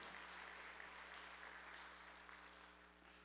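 A church congregation claps during a Sunday worship service, a dense, steady wash of applause from many hands that fades slightly toward the end, with a low electrical hum beneath.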